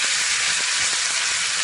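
Tomatoes hitting a hot pan produce a loud, continuous hissing sizzle that fills the brief moment, steady and close with no voices.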